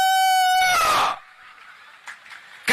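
A performer at a comedy stage show imitates a rooster crowing with his voice, one loud, long, rising-then-falling crow up close, followed by brief crowd noise and a short burst at the end.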